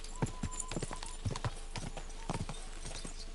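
A horse's hooves clip-clop at a quick gallop in Kingdom Come: Deliverance II, irregular hoofbeats fairly close over a low background hum with no speech.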